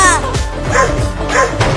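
A cartoon dog in a Holi-themed Hindi animated chase barks loudly in quick, rhythmic yips, about three or four close, bright barks in under two seconds.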